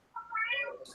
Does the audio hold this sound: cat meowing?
yes